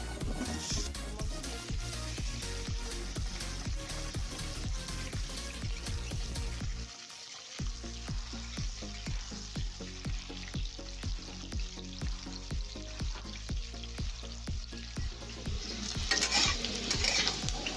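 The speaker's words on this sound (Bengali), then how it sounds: "যে পেঁপে আর আলুটা কেটে রেখেছিলাম ওইটা এখন ভেজে নেব।" Cut papaya and potato pieces fry in hot oil in a wok, a dense continuous sizzle with frequent scraping stirs of a spatula, close and steady with a brief pause partway through.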